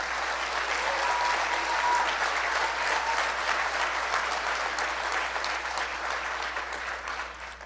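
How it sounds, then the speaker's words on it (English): Sustained applause from a large crowd, loud and even throughout and tapering slightly toward the end. "Please give her a big round of applause."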